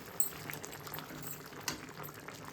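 Prawns simmer in their own released water in a pan for a spicy prawn dry fry, giving a quiet, steady bubbling sizzle with a few small pops and no speech.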